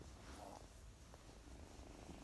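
A pet cat purrs softly and steadily close by, a low continuous rumble throughout, quiet and alone with no talking.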